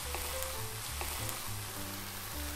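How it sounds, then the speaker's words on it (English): Spicy pork bulgogi with gochujang and green onion sizzles steadily in a hot pan, with soft scraping and stirring strokes repeating throughout, close and continuous, no voices. "Sprinkle the green onion to it. Then give it a mix."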